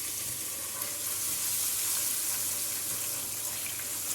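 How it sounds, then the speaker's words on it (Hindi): Tomato ketchup going into a hot pan of chicken shashlik sauce with garlic, giving a continuous bright sizzle and frying hiss that holds steady throughout with no talking. "1 कप टमाटो केचप डाल दी है मैंने।"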